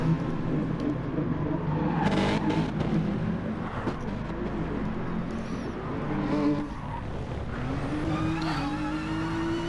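In a racing video game, a touring car at Bathurst outbrakes itself and runs into the gravel: continuous engine roar with tyre scrub and shifting pitch, other cars faintly in the mix.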